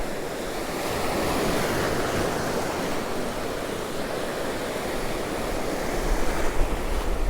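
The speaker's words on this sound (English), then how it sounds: "I know these waves are getting big." Waves crashing on Cromer Beach as they grow big, a sustained loud roar of surf mixed with gusting wind noise, swelling slightly toward the end, no talking.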